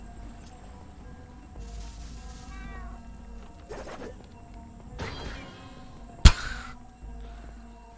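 Cat creature in the video game Don't Starve Together meows and yowls while being struck, a few scattered cries over low game ambience ending in a sharp, loud hit and a final squeal.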